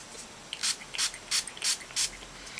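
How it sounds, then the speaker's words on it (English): Five short, close hisses of hairspray sprayed onto bobby pins in a quick uneven rhythm, each a sharp airy burst, with no voices. "One tip actually is to spray your bobby pins"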